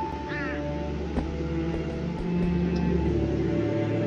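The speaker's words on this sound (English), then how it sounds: "I guess I can bait out the cat now." A cartoon cat in the Poptropica video game, on 24 Carrot Island, gives a short meow near the start, heard over steady game music and sound effects.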